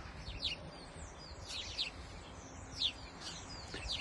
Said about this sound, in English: A lovely sound. The birds